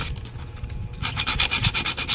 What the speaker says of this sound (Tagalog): Okay, lihain natin.